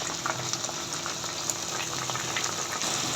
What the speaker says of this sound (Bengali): একদম ফুল ভলিউমে সিদ্ধ করে নেবে এটাকে মানে শুকিয়ে নেবে একদম জলটা যাতে পুরা ভিতরে চিনির রসটা ঢুকে যায়